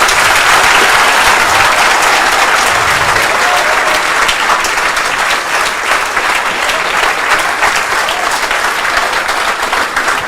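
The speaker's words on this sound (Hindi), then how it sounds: "जोरदार तालियां उस बात के लिए।" Loud, dense applause from a seated crowd gathered to hear exam toppers speak, continuous and strong from start to finish with a slight easing toward the end.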